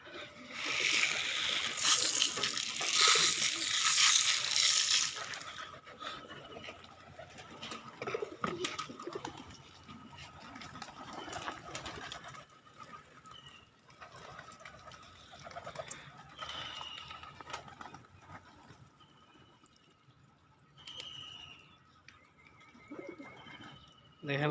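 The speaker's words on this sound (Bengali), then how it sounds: "খাবার দেওয়ার পরে সবগুলা কবুতরই চলে আসছে।" Pigeons cooing at feeding time on a small pigeon farm, with soft repeated coos and rustling throughout and a louder, brighter burst of activity in the first few seconds.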